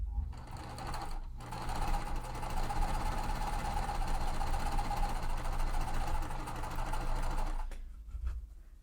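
A sewing machine stitches quilt pieces in a steady, close mechanical whirring run that lasts about six seconds before stopping, with a short pause near the start and no talk.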